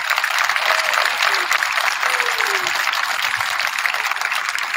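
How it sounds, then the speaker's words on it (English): A crowd at a drill team night breaks into sustained, loud applause for a scholarship recipient, a thick wash of clapping with a few faint voices rising beneath it. "So I'd like to give a round of applause for Lily."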